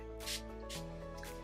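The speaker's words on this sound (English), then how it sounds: "I'm just gonna spray a little bit of my Urban Decay All Nighter Setting Spray" Urban Decay All Nighter setting spray mists from its pump bottle in a few quick, close hissing bursts, heard over steady soft background music.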